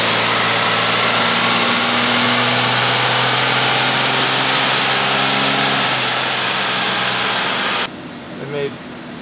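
A 500 HP 12-valve Cummins diesel truck roars at full load on a dyno, a loud, sustained, droning engine note that cuts off sharply near the end, leaving quieter background noise.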